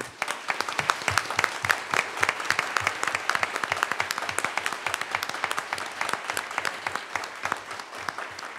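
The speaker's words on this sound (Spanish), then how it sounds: "Yo creo que Luis se merece un aplauso de todos." A large audience at the 2018 Manuel Elkin Patarroyo awards ceremony applauds steadily, dense overlapping hand claps sustained at an even level throughout, with no speech over it.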